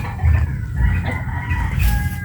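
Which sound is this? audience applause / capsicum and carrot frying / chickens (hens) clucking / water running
chickens (hens) clucking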